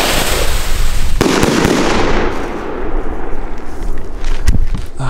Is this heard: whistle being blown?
no